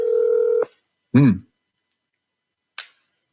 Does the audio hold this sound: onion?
no